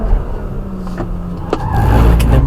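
An Audi A5 engine under full throttle, a loud, close, continuous drone that swells and grows stronger over the final second as the car accelerates.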